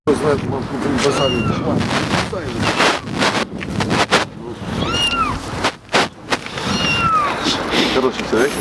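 A stray cat meows repeatedly outdoors on a cold morning, several rising-falling cries close by amid wind noise and street bustle.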